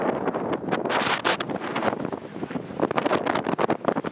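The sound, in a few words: strong wind on the mountain at Puy de Sancy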